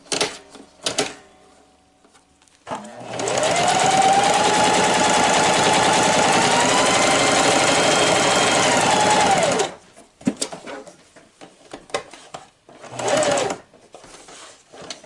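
A Singer 4423 sewing machine runs at steady speed for about seven seconds, stitching through thick layers with a loud, even mechanical whir, framed by brief quiet handling sounds before and after.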